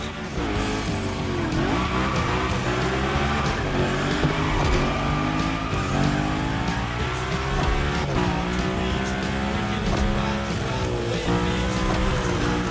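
A car drifting through a gymkhana course in The Crew Motorfest, engine revving loud and steady with rising and falling pitch as tires squeal through continuous slides, no talk.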